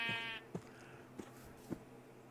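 Sheep bleating in the Minecraft video game, one short clear bleat at the start followed by several soft thuds or footsteps, fairly faint.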